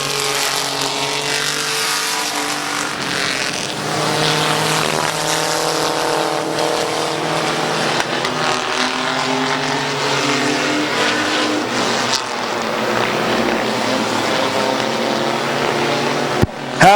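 Race cars at Midvale Speedway roar around the track in a loud, sustained engine drone, with pitch rising and falling as the cars pass and chase one another close by.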